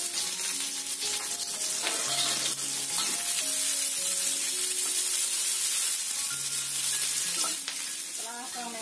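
Steady, loud sizzle of sliced garlic, shallots, galangal and lime leaves frying in a pan for a tofu, eggplant and green bean stir-fry, with occasional stirring scrapes.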